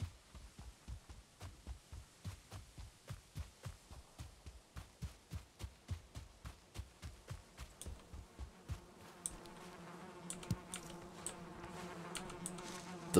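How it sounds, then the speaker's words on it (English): Beehive bees in the video game Valheim buzz in a steady rhythmic pulsing drone, close and moderately loud, with other game ambience rising toward the end. "The bees are happy."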